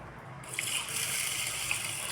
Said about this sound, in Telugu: దీన్ని వాటర్ పోసుకొని త్రీ టైమ్స్ బాగా వాష్ చేసుకొని నానబెట్టుకోవాలి